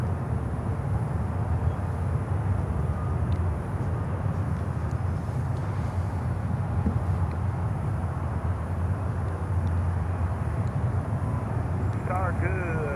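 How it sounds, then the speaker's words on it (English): An Air Peace Embraer 145 jet at Miami airport gives off a steady, moderate engine drone that holds evenly throughout. Voices talk over it. "There we go, Air Peace Embraer"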